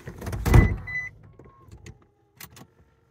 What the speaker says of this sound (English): So if you want to bring your seats down,